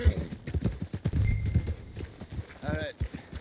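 Horse hooves clip-clop steadily in the Red Dead Redemption video game, a close rhythmic walking beat with a brief whinny, heard beneath ongoing talking voices.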